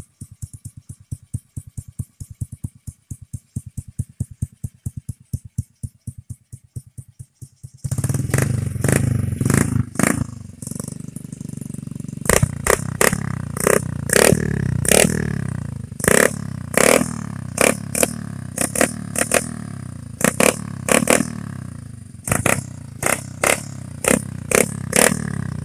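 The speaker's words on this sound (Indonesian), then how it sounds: "untuk review atau hasil dari suara knalpot ini ada videonya, ini suaranya" Modified knalpot exhaust on a BMX Cub motorcycle, first idling with a rapid steady putter, then revved hard in repeated loud, aggressive bursts with clattering pops between throttle blips, close to the microphone.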